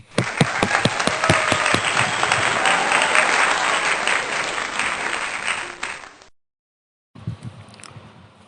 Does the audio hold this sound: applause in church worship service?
yes